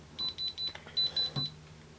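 A sapphire tester beeps against the crystal of a Vario Empire mechanical watch, a series of short, clear high-pitched electronic beeps in quick rhythm, close and fairly quiet with no talking.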